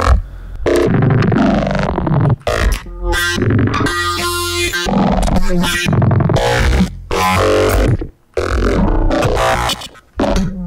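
Heavily processed synth bass lurches through choppy, glitching bursts with a resonant, metallic ring and gritty distortion, cutting in and out in stuttering bursts.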